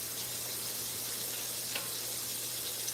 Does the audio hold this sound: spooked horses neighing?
no